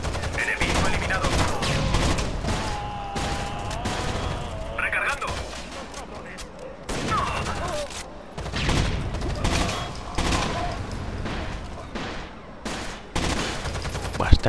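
Gunfire in the video game Rainbow Six Vegas: rapid bursts and bangs of automatic rifle fire, loud and repeated throughout, mixed with radio chatter from in-game squad voices.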